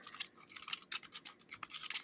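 Glow powder being stirred into UV resin, a quick series of close, wet scraping and smearing strokes in an irregular rhythm, quiet and with no voices.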